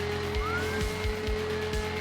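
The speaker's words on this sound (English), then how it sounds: "what an absolutely annoying vroomy sound this car has" Car engine hum from the video game Drive Syndicates, a steady droning tone with rising revving sweeps, loud and continuous with repeated low thumps underneath.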